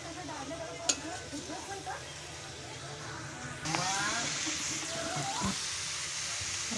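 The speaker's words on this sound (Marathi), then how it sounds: "सगळं ढवळून घ्यायचं आहे" A jackfruit vegetable mixture is stirred in a pan at home, giving a soft sizzle with scraping spoon strokes. The scraping grows louder and steadier partway through and runs continuously.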